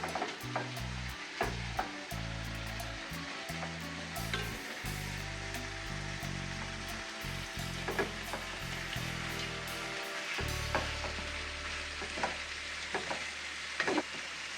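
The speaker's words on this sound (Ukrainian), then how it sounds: "висипаю в кастрюлю. Перемішуємо." Chopped cabbage is stirred in a pot, where it sizzles steadily and loudly the whole time, with scattered scraping and knocking of the utensil against the pot as it is turned over, close up.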